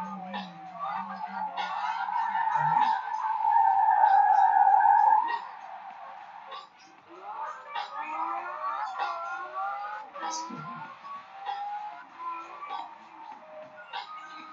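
Car tires squealing while drifting in the Forza racing game, with wavering, high-pitched screeches that swell, fade and return in bursts at moderate loudness, with no clear talk over them.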